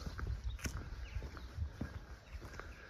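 Horses move about a farm, their hooves giving scattered, fairly faint clops and thumps on firm ground, heard alone without talking.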